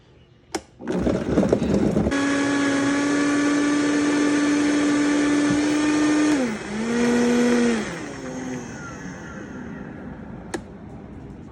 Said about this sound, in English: let's get this smoothie going